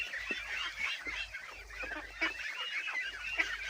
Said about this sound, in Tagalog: Ganun po lakas kumain yung ating alagang itik ng asula.